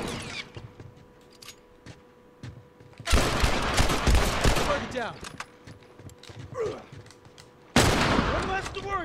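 Gunfire in the game The Last of Us, two loud, dense bursts of rapid shots separated by quieter stretches with faint clicks, the first burst long and rolling, the second starting abruptly near the end.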